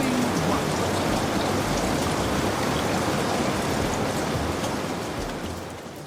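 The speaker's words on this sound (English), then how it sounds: "And then it rained." Continuous heavy rain falling steadily over a newly cooled rocky surface, a dense unbroken hiss that stays loud and even throughout before easing slightly at the end.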